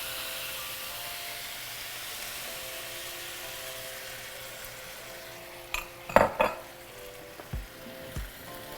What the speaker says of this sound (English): at this point, we're going to add our sauce. Make sure that you mix it.